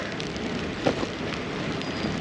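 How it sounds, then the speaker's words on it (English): Hail pelting down outdoors in Toronto as a dense, continuous hiss and patter of small impacts, steady and loud throughout with a brief thud near the middle, with no talk heard. "Yeah, it's the hail."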